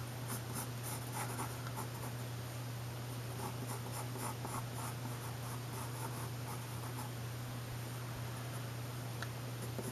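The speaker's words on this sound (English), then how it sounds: "draw this big long oval" Pencil drawing a long oval on paper, a soft continuous scratchy rubbing that runs steadily at low level against a constant low hum, with no talk.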